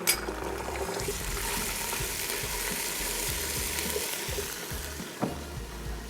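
Garlic-ginger paste sizzling as it fries with mutton in a pan for palak gosht pulao, a steady broadband hiss with soft stirring clatter throughout, close and moderately loud.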